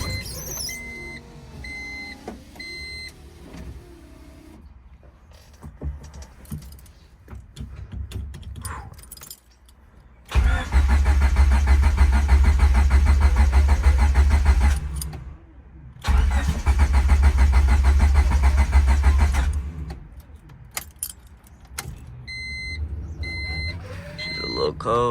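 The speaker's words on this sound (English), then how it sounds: "Let's get a nice cold start." A 1998 turbocharged Honda Civic, just fitted with a replacement transmission, cold-starts low on fuel: keys and clicks first, then a loud, rough engine catch, a brief cutout and a second run of idle. Voices talk around it.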